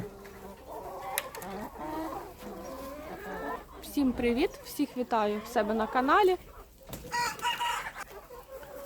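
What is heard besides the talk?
bantam chickens crowing and clucking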